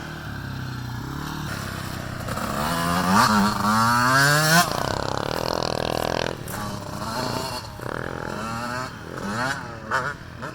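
Several kids' dirt bikes and quads in a muddy Georgia motocross setting in winter ride past, their two-stroke engines buzzing and revving loudly as they approach and pull away, rising and falling over about ten seconds.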